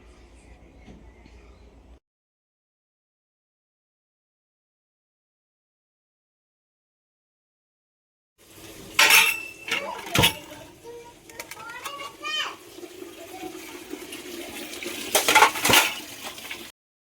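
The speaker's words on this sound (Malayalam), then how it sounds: "അപ്പോൾ ഇവിടെ വെച്ചിട്ട് നമ്മൾ പാത്രം കഴുകുക." Dishes and pots being washed by hand: after a quiet stretch, metal clanks and clinks come close and loud, some sharp knocks, with soft rustling between.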